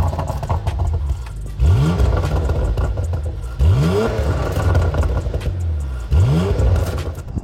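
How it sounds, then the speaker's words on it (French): Porsche GT3 six-cylinder engine revving, three loud close blips that each sweep sharply upward in pitch and then settle back to a rumbling idle in between, with no talk over them. "c'est un 6 cylindres turbo, mais vous allez voir que ça sonne quand même bien"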